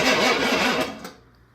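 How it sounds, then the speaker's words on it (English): A starter cranks over a freshly wired engine on its first start attempt, a harsh, strained churning with a rhythmic pulse for about a second, loud and close, then cutting off into near silence. "the engine should crank over in theory"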